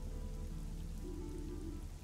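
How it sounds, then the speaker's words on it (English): Steady rain falling on a stormy night in the video game Fall of Porcupine, a constant dense patter with a low rumbling bed, unbroken and with no voices. "But I like the rain."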